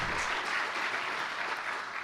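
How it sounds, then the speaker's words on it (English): Sustained audience applause at a university aerospace facility groundbreaking ceremony, a dense, even roar of many people clapping, loud and close, holding steady without a break for the whole stretch. "Let's give them a round of applause."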